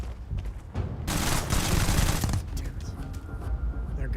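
Rapid bursts of gunfire aimed at the player in the Starfield video game, a dense volley of shots swelling loud mid-clip over a steady background roar, with a voice briefly reacting.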